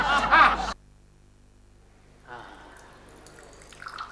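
Ganga water poured from a vessel in a dramatic scene, a soft liquid trickle and splash starting about halfway through and building slightly, following a short burst of voice at the start.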